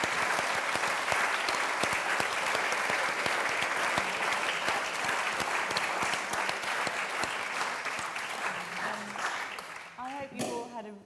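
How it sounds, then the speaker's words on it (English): A crowd applauds loudly and steadily for several seconds, the clapping thinning out toward the end as a few voices come in. "can we give a very large round of applause to all of these authors"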